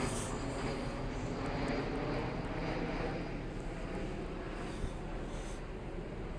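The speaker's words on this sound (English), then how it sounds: "There is a plane going over." A plane passes overhead above low cloud near the railway lines at Stockport, heard as a steady, fairly loud broadband roar that holds evenly across the whole stretch.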